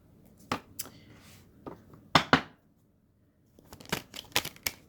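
A clarifying tarot-style card deck being shuffled in a quiet room: several separate bursts of riffling and flicking cards, with a cluster of quick snaps near the middle and a busier run of card flicks toward the end, close and moderately soft.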